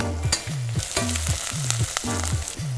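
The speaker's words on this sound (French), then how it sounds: "On va faire rissoler ces petites carapaces." Prawn shells sauté in olive oil in a saucepan with shallots and spices, giving a steady sizzle broken by regular, rhythmic scraping strokes about twice a second.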